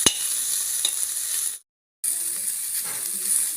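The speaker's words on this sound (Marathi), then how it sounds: "एक मिनिट आपण याला परतून घेऊया।" Pizza topping vegetables including capsicum sauté on low heat in a pan, a steady bright sizzle with faint stirring scrapes, broken by a short silent gap.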